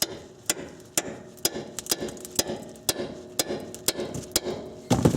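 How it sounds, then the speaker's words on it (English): A 3-pound hammer taps a Nissan Maxima rear suspension part in a steady series of sharp, ringing strikes, about two per second, close by with nothing else over them. "I'm just going to tap it a little bit with a hammer, 3-pound hammer"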